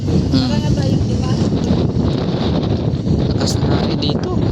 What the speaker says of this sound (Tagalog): Lakas na hangin dito.